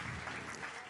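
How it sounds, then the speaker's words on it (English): Audience at a W20 women's conference session clapping as the session chair walks to the podium, a short burst of fairly faint, dense applause. "Can we, a big round of applause as she walks past,"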